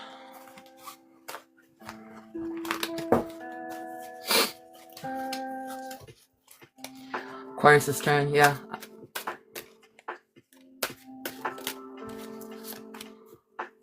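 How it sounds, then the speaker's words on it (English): Tarot cards get a hard riffle shuffle: fast clattering bursts of slapping cards, loud and close, between quiet pauses. Someone talks briefly and there is light background music. "I'm just gonna do another hard shuffle."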